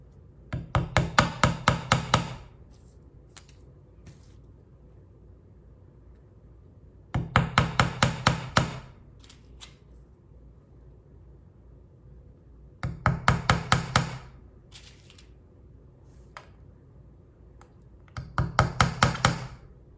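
Nails being hammered into a board around a turtle-shell outline for string art, heard as four bursts of quick, sharp knocks, each a run of about six to eight strikes, separated by quiet pauses.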